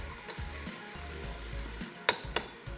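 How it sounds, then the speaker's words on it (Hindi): Minced meat for qeema matar is being fried in a pan, a constant low sizzle broken by spoon scrapes and two sharp metallic clinks near the end, no voices. "इतना भूनना है कि चिकन जो है बिल्कुल वाइट हो जाए"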